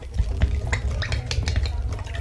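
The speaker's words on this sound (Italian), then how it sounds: "Mescolate per bene e già il liquido con questa gomma viene super viscoso" Chamomile water and gum being stirred into a thickening DIY hair conditioner, close wet sloshing and swirling with small drips and light clinks against the container, alone without talk.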